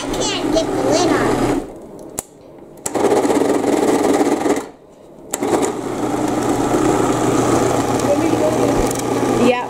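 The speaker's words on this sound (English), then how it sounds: "We're going to blend it up and taste it first." A kitchen blender whirring loudly as it blends bananas into chocolate-banana ice cream, running in steady bursts with two brief pauses, while people talk over it.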